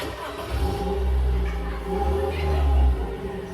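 A car engine starts and revs, the motor rising and falling in two surges before settling to a steady idle, heard close and fairly loud, with no talking.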